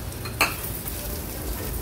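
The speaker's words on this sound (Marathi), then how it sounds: "वरीचे तांदूळ आपल्याला 2 मिनिटांसाठी तरी तेलावर परतून घ्यायचे आहेत" Barnyard millet rice fries in oil with cumin and green chilli, a continuous close sizzle with a single sharp clink of a spoon against the pan early on.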